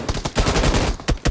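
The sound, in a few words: gunfire in the video game BGMI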